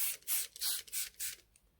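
Hand spray bottle misting water onto coffee filters in a kids' craft, about five short hissing bursts in quick succession, close and fairly soft, with no talking.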